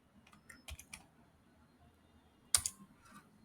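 Soft clicks of a computer keyboard as someone types, a few scattered keystrokes and a short burst near the end, faint and close against a quiet room hum.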